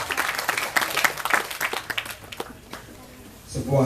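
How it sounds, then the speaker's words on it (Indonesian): An audience at a gathering applauds a guest, loud dense clapping that gradually thins and fades toward the end, with a voice briefly starting up at the close. "sekarang saya mohon tepuk tangan untuk Mas Jengki dari Bali"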